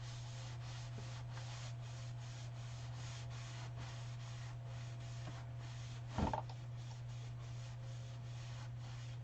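Steady soft rubbing of a cloth wiping across a painted windmill mantle sign, a continuous close scrubbing with a low constant hum underneath and one brief louder knock midway.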